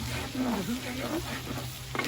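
Continuous sizzling of food frying in hot oil, with a voice murmuring faintly over it.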